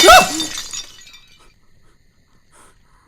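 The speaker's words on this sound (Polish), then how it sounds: "Szkło gdzieś pękło." Glass shatters in a Minecraft game, one sharp loud crash at the start with bright tinkling debris that fades into near silence within about a second.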